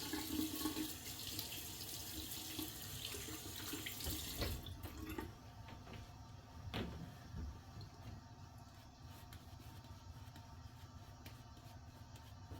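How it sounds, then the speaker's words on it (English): Water runs from a tap in a strong, steady stream for a few seconds, then cuts off, leaving quiet room noise. "I'm gonna add a little water"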